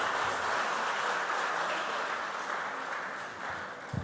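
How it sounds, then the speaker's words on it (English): An audience applauds at a school quarter-final competition, steady and sustained clapping that fades slightly toward the end. "Round of applause."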